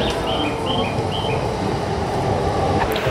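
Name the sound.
Tokyo metro train at station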